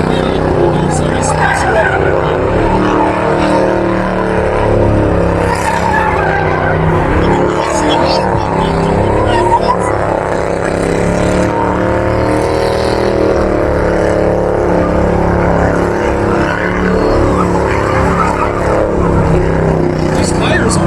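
A car does a burnout in a burnout pit, engine roaring at high revs while the tires squeal and hiss continuously for about twenty seconds, loud and steady, with a crowd and voices mixed in.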